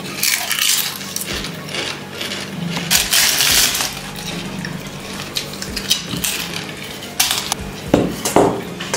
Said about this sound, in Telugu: ఇలా మెత్తగా దంచేసుకోవాలి.